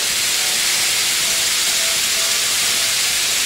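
Olive oil, onion and garlic sizzle in a pan while tomato ketchup is being made, a loud, steady, unbroken hiss that fills the whole moment with no one talking.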